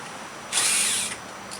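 A power drill drives a number 8 by 1 inch screw during a greenhouse repair, giving one loud, high-pitched whirring burst of about half a second in an otherwise quiet moment.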